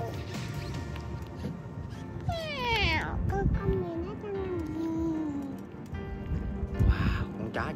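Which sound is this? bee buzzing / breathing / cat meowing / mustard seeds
cat meowing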